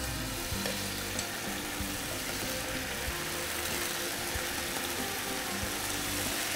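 Beef frying in a pan on the stove, a steady broadband sizzle running throughout with low rumbling hum and occasional faint clicks, no voices.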